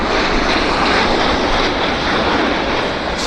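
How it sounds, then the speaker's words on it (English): Airliner engines in reverse thrust after landing at Vancouver Airport make a loud, broad roar that stays strong and steady throughout, heard from nearby without talk. "Definitely pulling reverse."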